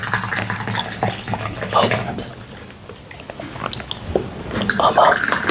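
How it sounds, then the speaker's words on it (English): Chinese tea poured during a tea-time roleplay, a liquid trickling and splashing steadily for several seconds with faint background murmur. "let's pour some tea"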